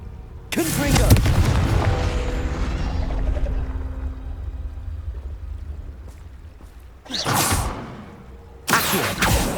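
Confringo fire-blast spell explosions in Hogwarts Legacy: a loud, booming blast with a long rumbling tail, followed later by two more sharp bursts close together.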